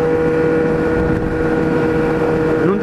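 Motorcycles, including a Kawasaki Z1000, riding on the road to Barretos for a motorcycle event, a steady loud engine drone with wind noise and a brief rising rev near the end.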